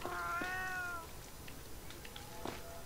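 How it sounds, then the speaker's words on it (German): A cat in the video game The Last Story meows twice, a drawn-out meow first and a shorter one near the end, set against a faint steady game background. "Die Katze macht Miau"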